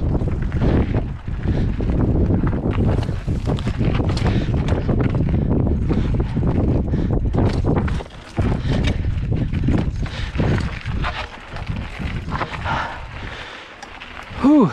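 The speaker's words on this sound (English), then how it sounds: "That's a gust of wind right there." Strong gust of wind buffeting the microphone during a mountain bike ride on the Upper Javalina trail, a loud, sustained roar that drops briefly and then surges again.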